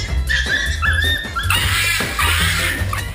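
Legendary dog Pokémon cries in Pokémon Gold, harsh electronic chip-tune calls in the basement of a burned tower, two loud warbling bursts over a continuous game backdrop.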